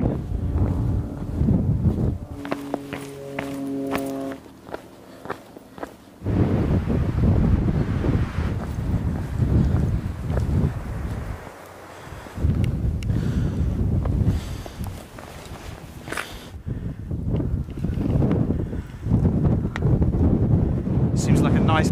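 Strong, icy wind on Carlton Bank hilltop buffeting the microphone in heavy roaring gusts, broken by a few quieter lulls.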